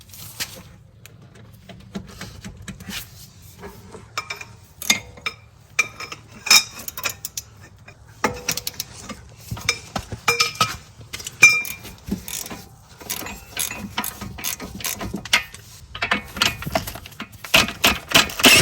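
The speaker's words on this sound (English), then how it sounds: "So there are 4 bolts that we are going to remove." Sharp metallic clicks and clinks of an 18mm socket working bolts loose from the front air suspension shock of a Mercedes CLS550, intermittent and close, with light jangling of tools.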